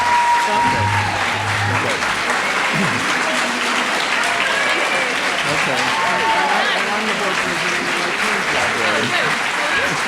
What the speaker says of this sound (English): applause for both candidates